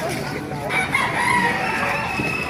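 A rooster crows among chickens at a Baliuag market, one drawn-out crow rising clearly over a busy background of clucking and crowd murmur.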